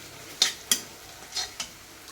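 Onions frying in a pan for a cabbage curry, with a few short sharp sizzling bursts and stirring scrapes spaced irregularly over a soft background, close and moderately loud, no talking.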